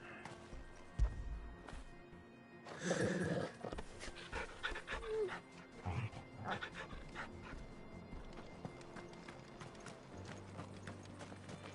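Dog in Final Fantasy XVI panting while being petted, with game clip-clop and mechanical sounds around it, moderately quiet and steady through the scene.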